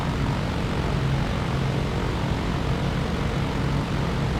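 Propeller aircraft engine droning steadily on a landing approach near an airfield, a continuous loud even hum with no breaks and no talk over it.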